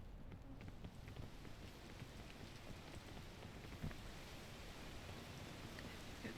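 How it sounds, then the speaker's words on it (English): Steady rain patters down in the PEAK climbing game, a soft, even hiss of drops on surfaces with faint scattered ticks and no voices over it. "Rain."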